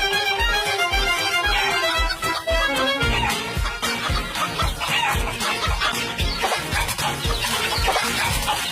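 Chickens at a poultry area clucking densely and continuously, many birds overlapping in a loud, busy chorus with sharp scratchy bursts throughout.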